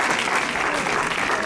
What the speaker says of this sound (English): Clap those hands and give me the praises you take.